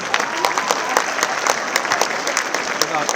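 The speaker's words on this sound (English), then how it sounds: "I'm hearing a louder applaud." Audience applause at a Canary School event, a dense run of many hands clapping for about three seconds, steady and fairly loud, with a voice speaking over the clapping.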